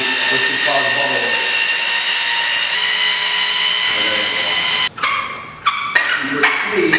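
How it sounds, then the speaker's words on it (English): Power drill with a mixing paddle stirring epoxy floor coating for a garage floor at low speed, a steady whirring drone for about five seconds that cuts off, followed by brief stop-start bursts. "You want to mix 3 minutes at a low speed."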